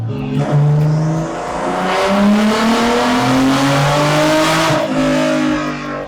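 Turbocharged BMW E30 engine revving hard on boost, several rising and falling rev sweeps close by, loud and throaty with a strained, climbing pitch and no talk.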